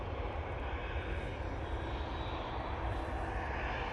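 Qatar Airways airliner climbing out and banking away after takeoff at a windy Manchester Airport, a distant, faint but steady engine roar with a broad rushing texture and no voices.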